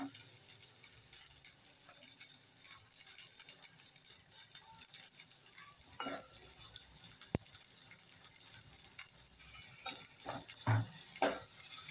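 Onion and coconut masala paste fries in hot oil with a soft, steady sizzle, punctuated by stirring scrapes and a few louder clatters toward the end, close and fairly quiet.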